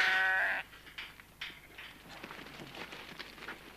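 Sheep in a farm pen give one short, loud bleat at the start, followed by quieter shuffling and hoof movement close by.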